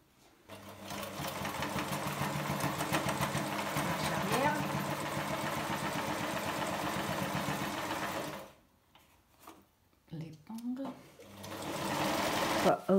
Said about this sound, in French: on a passé la ligne de couture le long du côté pour cacher les bords